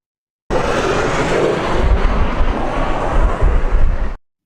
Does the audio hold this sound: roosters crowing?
no